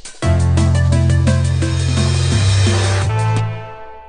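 Liquid drum and bass loop playing loud and sustained, with a bright crash cymbal wash on top of a deep bass line that shifts pitch, then fading away at the end.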